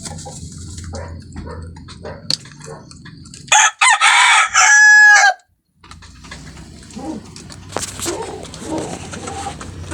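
Hens and a rooster are being fed in a small backyard space. A loud rooster crow stands out in the middle, soft clucking runs around it, and a person talks at times.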